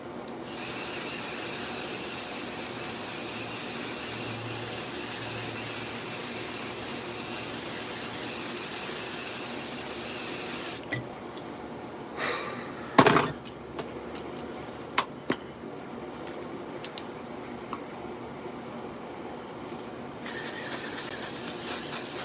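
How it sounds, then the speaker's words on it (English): Kryolan setting spray hisses in a long continuous burst, loud and close, then stops and gives way to small clicks and handling noises before a second hiss begins near the end. "Kryolan setting spray."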